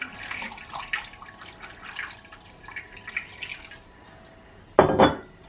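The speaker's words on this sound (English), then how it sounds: "And then pour my kombucha over it." Home-brewed kombucha is poured into a glass jar over tart cherry juice: faint scattered drips and trickles, then a short, louder gush of liquid splashing into the glass near the end.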